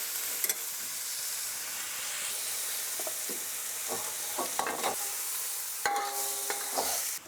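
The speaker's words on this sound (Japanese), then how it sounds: "そうするとゆっくり野菜を炒めることができます。" Vegetables for home-style yakisoba stir-fry slowly over moderate heat, giving a steady low sizzle with scattered clicks and scrapes of a utensil against the pan; no one speaks.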